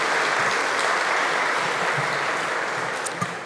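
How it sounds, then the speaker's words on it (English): Audience applause at an International Women's Day breakfast event, steady dense clapping from a crowd for a contributor, sustained and fairly loud throughout, tapering slightly near the end. "Just a clap for Mitch and the work that they put in."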